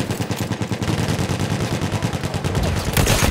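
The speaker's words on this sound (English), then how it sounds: "There's a machine gun!" Loud, close machine gun fire in the Battlefield 1 video game, heard as a continuous rapid stream of shots that keeps going throughout, with no talk.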